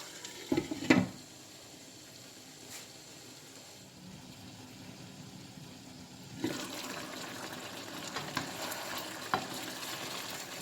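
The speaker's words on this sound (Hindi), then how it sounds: "चिकन को साथ साथ हिलाते रहे।" Chicken being stirred in a pot for biryani, with a sharp scrape or clatter near the start, then a steady frying sizzle that grows louder partway through and continues with occasional small clinks.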